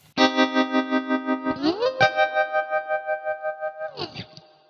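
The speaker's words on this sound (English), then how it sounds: "the Moa Trelicopter. Very kind of basic but very cool tremolo pedal" Electric guitar through a Moa Trelicopter tremolo pedal: a held chord pulses in a steady, even rhythmic throb, then slides to a new pitch and keeps pulsing before fading; clear and close, with no talking.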